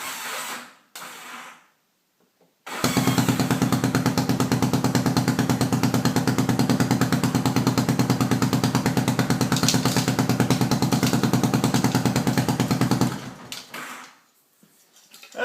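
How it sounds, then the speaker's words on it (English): A wood chipper's starter motor cranks hard when fed straight from a battery through jumper cables, giving a loud, even, rapid whirring grind that runs for about ten seconds without the engine catching, with brief clunks before and after. "I want to take the jumper cables and go straight from the battery to the starter and see what's going on"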